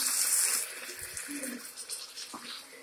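Water being poured into a pan of water chestnut curry, a brief close gushing splash at first that fades into faint trickling and stirring sounds.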